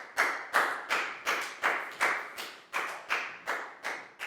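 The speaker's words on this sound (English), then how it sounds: "Big round of applause for Pak Bung, please, guys." A single person claps steadily in a classroom, about a dozen close, evenly spaced claps with no voices.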